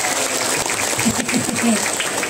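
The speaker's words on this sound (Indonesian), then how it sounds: "Tuh, tepuk tangan dulu dong buat Balura." Audience clapping at an Islamic religious lecture in a village at Teluk Labuan, Pandeglang, a steady close patter of hands with faint voices mixed in.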